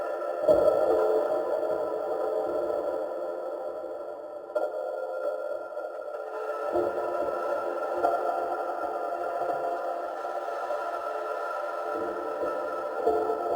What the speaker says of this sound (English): Right now we're going to just listen to Mars.